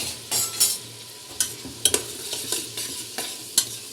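Soybean chunks roasting with masala in a hot pan sizzle steadily while a utensil scrapes and stirs in sharp, irregular bursts, close and fairly loud, with no voices.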